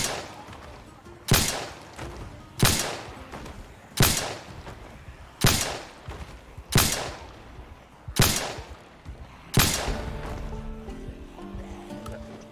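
Shotgun fired in Project Zomboid, seven loud, sharp blasts at steady intervals of about one and a half seconds, each with a short decay, ending in a low hum.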